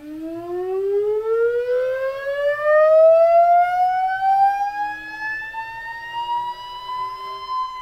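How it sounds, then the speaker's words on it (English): Tesla turbine under generator load accelerating in a cold steam test at medium RPM, a loud, clear, high-pitched whine that rises smoothly and steadily in pitch throughout, alone, with a faint low hum underneath. "do another acceleration test with a load on it"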